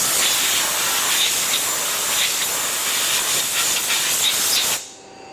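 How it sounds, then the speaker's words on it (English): A loud, steady hiss of compressed air blasts over a freshly cut thread on a lathe workpiece for a gantry crane build, lasting about five seconds up close before cutting off abruptly. "The thread is cut, and we will blow it off."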